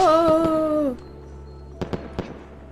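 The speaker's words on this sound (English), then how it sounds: "Whoa, fireworks." Fireworks in a visual novel game, starting with a loud whistling rocket tone that slides and fades, then a short quiet gap and three sharp, distinct pops.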